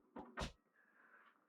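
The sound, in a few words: caravan storage drawer opening or closing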